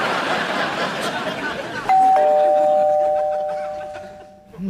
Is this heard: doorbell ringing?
yes